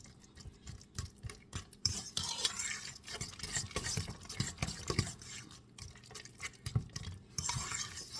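Thick lasagna roll filling with mozzarella cheese is stirred steadily in a bowl, giving soft repeated scraping and squelching strokes, close and moderately loud, with occasional light clinks of the utensil and no talking.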